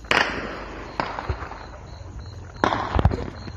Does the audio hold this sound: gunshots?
yes